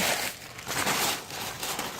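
Brown tissue paper crumples and crinkles close by while a box is packed with reborn dolls, a dry rustling that swells and fades over a couple of seconds, with no voices.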